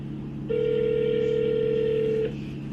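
Phone call ringback: a single steady electronic tone sounds for nearly two seconds over a quiet, low background hum.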